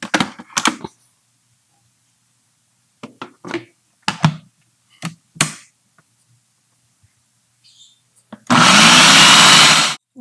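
A food chopper works through soya chunks, onion, green chilli, ginger and coriander: scattered knocks and clicks come first, then a loud, close whirring burst lasting about two seconds.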